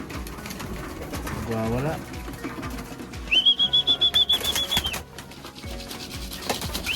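Young racing pigeons, about two months old, arrive from an 80 km group toss, with a burst of rapid wing flapping near and loud amid coos and background noise, then a long whistle-like tone, while someone speaks briefly.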